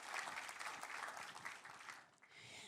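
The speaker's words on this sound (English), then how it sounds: "We should all give them a round of applause, actually." Audience applause at a pitch event on stage, a steady wash of clapping that holds fairly even for a couple of seconds, dips briefly, then swells again, heard at a moderate distance without talk over it.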